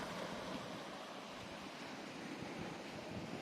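Sea waves wash steadily against an eroding shore at Laem Phak Bia in Ban Laem, Phetchaburi, on the Gulf of Thailand, as a faint, continuous surf-and-wind rush with no voices.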